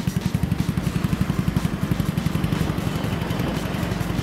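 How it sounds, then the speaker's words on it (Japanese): A small Yamaha Majesty 125 scooter engine idles steadily nearby, its rapid, even putter continuing throughout with no other sounds. "異音なく普通にエンジンかかっています"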